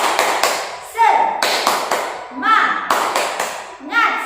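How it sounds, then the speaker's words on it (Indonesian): A primary school class does the rhythmic 'tepuk semangat' clapping chant: loud patterned handclaps in bursts, with children's voices chanting along. "yuk kita bersama-sama tepuk semangat terlebih dahulu"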